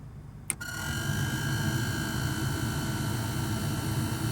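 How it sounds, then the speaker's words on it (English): After a click, a failing 1998 Chevrolet Silverado heater blower motor whirs up into a steady airy roar with a thin, high-pitched squeal ringing continuously on top. "You hear that high-pitched squeal? That is the blower motor going bad."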